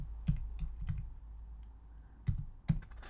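Several keys are tapped on a computer keyboard while a worksheet name is typed in Excel 2016 on a Mac, irregular clicks close by with quiet gaps between them.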